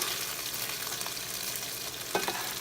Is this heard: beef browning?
yes